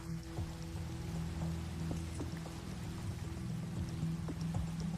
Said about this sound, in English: Wait, of course, it starts to rain.